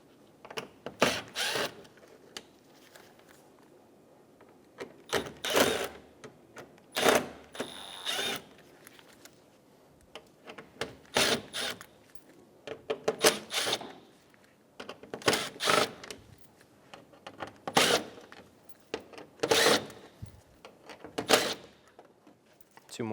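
A power driver fitted with a Phillips bit backs screws out of the front of a 2012-2020 Chevrolet Sonic. It runs in a series of short, loud, ratcheting whirring bursts separated by quiet pauses.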